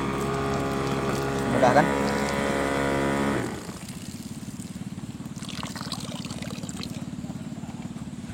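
A water pump sprayer engine hums with a steady mechanical buzz, loud at first and then settling into a lower rhythmic chugging as water flows out through the hose; a voice speaks briefly.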